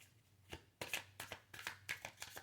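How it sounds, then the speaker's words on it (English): Playing cards riffled and shuffled by hand in a series of quick, crisp bursts, close and fairly quiet, with no voice over them. "And final shuffle."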